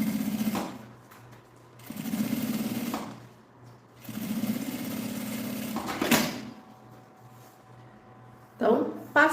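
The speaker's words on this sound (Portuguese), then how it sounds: "eu vou passar a costurinha de meio pé de máquina" A sewing machine runs a half-presser-foot-width seam on a toiletry pouch, whirring in several steady bursts separated by short pauses, close and fairly loud.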